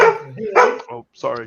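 A dog barks a few short times, mixed in with a person's nearby talking.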